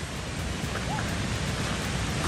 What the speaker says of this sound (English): it just happens to be a waterfall right now because of all the rain